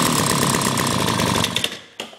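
A Honda Spree scooter's small engine runs with the choke on, a loud, steady buzzing drone that falters and cuts out near the end before a brief final sputter.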